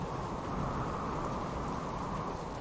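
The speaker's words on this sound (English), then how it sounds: "it keeps the rain off my head" Steady heavy rain roars without a break, a dense, low, rumbling wash that stays at one level throughout.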